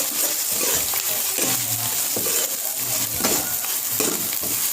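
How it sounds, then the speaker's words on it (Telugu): A ginger and coconut paste sizzles loudly and steadily in a pan while a spoon scrapes and stirs it in repeated strokes, close up with no talk. "అల్లం కొబ్బరి పేస్ట్, అది కూడా వేసుకొని కొంచెం వేగేటట్టు కలుపుతూ ఉండాలి"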